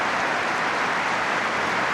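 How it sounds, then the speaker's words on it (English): A stadium crowd at Easter Road applauds steadily during a Hibernian versus Hearts Scottish Cup tie, a dense, unbroken wash of clapping and crowd noise filling the whole stretch with no single voice standing out. "Round of applause around all four sides of Easter Road for Ian Matthews, a Hibernian fan."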